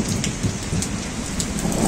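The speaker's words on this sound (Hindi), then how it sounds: "ओले गिरना शुरू हो गए हैं" Hail falls in Kalatop forest near Dalhousie, a dense, steady patter of many small impacts with no voices.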